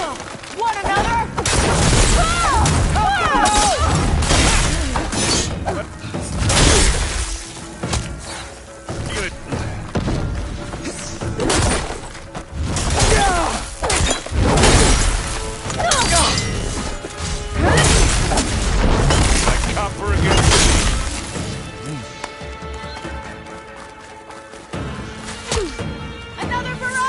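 A loud barrage of impacts and explosions rolls through a Horizon Forbidden West battle on the hardest difficulty, heavy thuds and crashes repeating in waves for the whole stretch, with voices shouting over the din.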